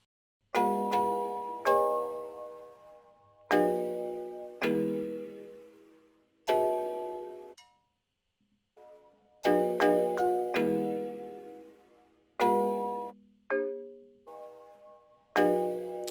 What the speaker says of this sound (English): that's how I layered these bells, these keys, to make that cool melody